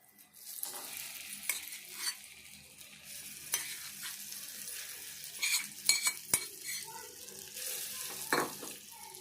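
A spoon stirs green chili and tamarind chutney into a sizzling tempering in a pan, with a soft frying hiss underneath and scattered scraping and clinking of the utensil against the metal.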